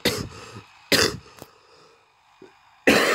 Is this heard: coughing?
yes